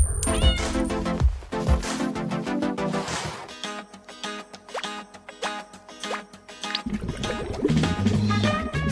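A pet cat meows repeatedly, loud and close, its drawn-out wavering calls rising and falling over several seconds alongside some wet dripping sounds, with no talking.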